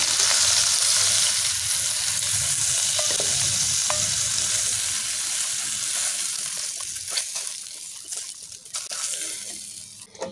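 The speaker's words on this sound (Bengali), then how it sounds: "ভাজা হয়ে গেছে, এখন আমি তুলে নেব।" Fish frying in hot oil in a home kitchen, a loud continuous sizzle and crackle close up, thinning out toward the end with a few scattered pops and clinks.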